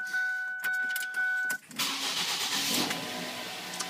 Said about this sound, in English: now we'll give it a crank and see how it turned out.